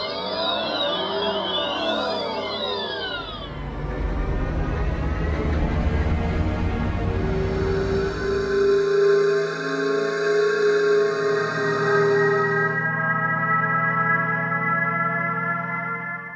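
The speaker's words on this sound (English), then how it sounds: "Are you familiar with the acoustic alert for pedestrians?" Electric car pedestrian alert sounds play one after another: warbling sweeping synthetic tones, then a low humming drone with rising whine, then steady layered electronic chords, each distinct and close, with no talking.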